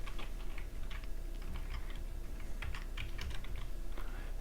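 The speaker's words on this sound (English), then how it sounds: "we can start typing the code" Code being typed on a computer keyboard: steady, quiet clicking of keys in irregular bursts, continuing alone without any talk.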